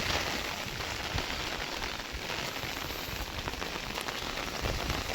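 Heavy village rain pours in a dense, unbroken hiss of drops drumming on surfaces around a rooftop terrace, steady and close, with no voices.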